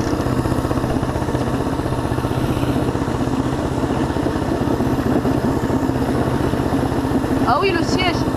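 A homemade go-kart's 200cc, 6.5 hp engine drones steadily and close, with a voice talking over it while the throttle is opened slightly at a standstill.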